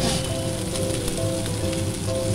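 Chopped onion sizzles steadily in a frying pan, a constant loud hiss with crackling that runs without a break while a home cook makes chicken Mughlai paratha.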